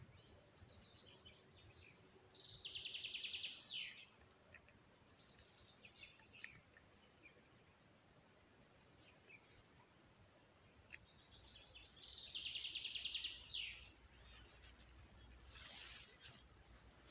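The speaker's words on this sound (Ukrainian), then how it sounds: "як пташки співають" Birds chirp softly in a quiet outdoor setting, with two brief bursts of bright high-pitched calls standing out over a faint background hush.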